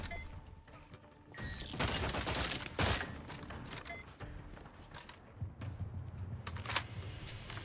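Assault rifle in The Outer Worlds 2: a few short bursts of gunfire, fairly faint and distant in the mix, with one sharper crack in between and no talking.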